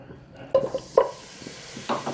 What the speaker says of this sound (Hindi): एक पैन के अंदर हम सबसे पहले चिकन ऐड करेंगे